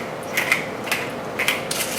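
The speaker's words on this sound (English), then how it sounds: "then a good grind of pepper" A pepper grinder cranked over Brussels sprouts, four quick ratcheting grinding bursts in an even rhythm, close and clear with no talk.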